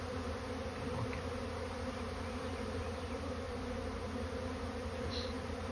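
A monster swarm of honeybees in blackberry season gives a dense, steady drone of buzzing that fills the air without pause, faint and continuous, with no voices.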